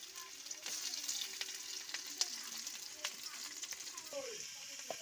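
Hot oil in a heated kadai sizzles and crackles steadily as fried greens and a vegetable curry are added, a quiet, even hiss with scattered pops and no talking.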